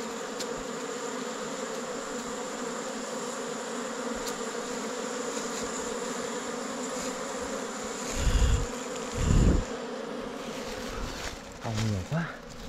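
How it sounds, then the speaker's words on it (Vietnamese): A swarm of honey bees buzzes around a wild hive as it is cut out. The dense, steady droning fills the scene, and a few low thumps from the cutting come near the end. "Ong nó bầu quá nhiều luôn."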